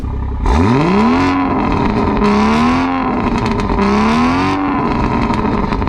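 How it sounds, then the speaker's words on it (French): Car with Akrapovic dual exhausts revving, loud and close: three rising and falling throttle blips with a throaty, rumbling tone, no talk. "j'ai vraiment hâte d'écouter la symphonie qui sortira de ces échappements"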